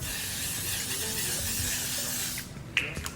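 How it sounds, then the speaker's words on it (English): Morphe setting spray hisses onto a face in one long, steady, close burst, then stops abruptly, leaving a few faint clicks and rustles. "this is the Morphe setting spray"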